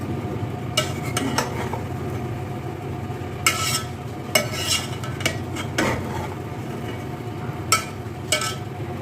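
Rice for Afghani mutton pulao being turned over in a pot, with a steady low rustle and scattered sharp clinks and scrapes of a utensil against metal, close and continuous.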